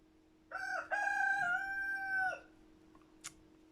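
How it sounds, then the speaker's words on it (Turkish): A single rooster crows once, loud and close, a long drawn-out call rising then holding steady before breaking off, followed by quiet. "bu horoz da öyle zamansız ötüyor ki bizim horoz"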